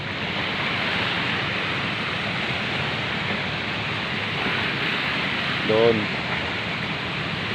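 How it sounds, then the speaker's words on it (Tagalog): Sea waves roar in a constant, broad wash of surf close by, with a brief spoken word rising over the noise near the end. "ingay ng alon at saka ingay ng sasakyan ang maririnig nyo mga kaibigan"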